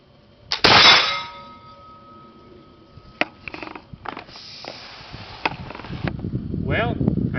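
A Northwest trade gun fires, and a moment later the lead ball strikes a metal gong with a bright ringing clang that lingers and decays outdoors; a voice follows near the end.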